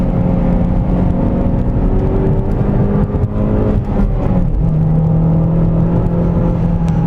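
A modified Mazdaspeed3 engine drones loudly and steadily while driving, with a continuous rumbling whir that rises and shifts slightly in pitch midway as the car pulls.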